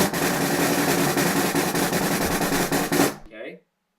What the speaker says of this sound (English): lots of times people will end up playing a buzz roll and it sounds like this.